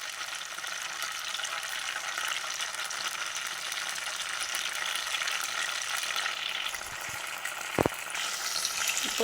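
Ivy gourd pieces sautéing in a pan for a roti pachadi chutney give a steady, even sizzle from start to finish, with a few soft stirring knocks near the end.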